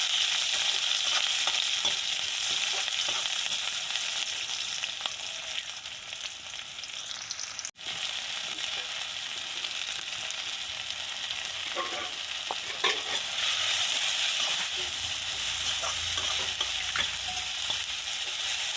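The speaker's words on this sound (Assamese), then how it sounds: "তেলতে আমি পিঁয়াজখিনি দি দিম।" Onions sizzle steadily as they fry in hot oil for a village-style local fish curry with khutura greens, with scraping stirs breaking in now and then over a continuous crackling hiss.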